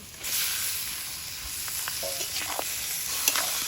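Mutton seasoned with salt and turmeric fries in a pan, giving a steady close sizzle broken by scraping stir strokes, with no talking.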